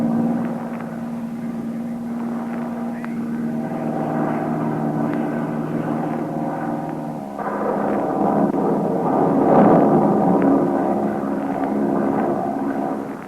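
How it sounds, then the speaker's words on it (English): Heavy droning engine of an underpowered propeller plane pushing through a storm, staged as a radio drama effect, runs continuously and loud, with a shift in texture and rising rumble partway through. "This plane is too underpowered to climb above it."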